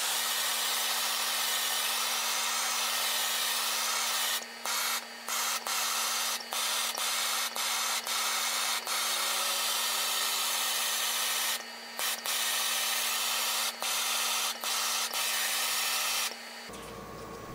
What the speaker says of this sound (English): Sanding this up to 500 grit